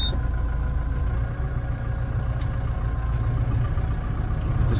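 A Kubota M110X tractor's diesel engine idles steadily at close range during hay bale loading with pallet forks, a continuous low rumble with no talk over it.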